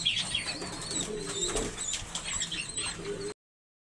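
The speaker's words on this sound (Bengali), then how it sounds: "দেখেন কবুতর কীভাবে খাওয়াচ্ছে না দেখছেন বাচ্চাগুলোকে" Pigeons coo softly and repeatedly at close range while feeding their chicks, with light rustling and faint chirps mixed in before the sound cuts off abruptly.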